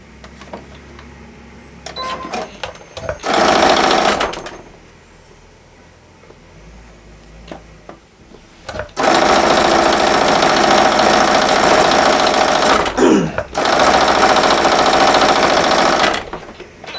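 Sewing machine stitching quilt fabric for a quilted dog bed, several bursts of steady fast needle whirring separated by quiet pauses with small handling clicks, near and fairly loud.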